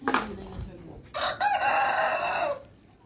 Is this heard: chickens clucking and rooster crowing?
yes